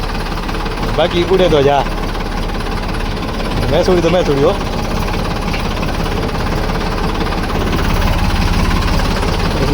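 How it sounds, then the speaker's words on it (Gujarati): A tractor engine runs loud and close with a steady knocking, throbbing idle, and people talk over it. Its sound is a little unusual for a tractor. "ટ્રેક્ટર ચાલુ તો થઈ ગયો હે, અવાજ બાકી આપણા ટ્રેક્ટર થોડોક અલગ છે"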